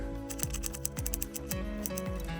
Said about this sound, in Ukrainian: Тепер нам треба нарізати нашу цибулю на невеличкі кубики.